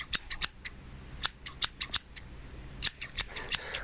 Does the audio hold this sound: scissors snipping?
yes